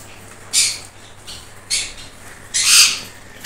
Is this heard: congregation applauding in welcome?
no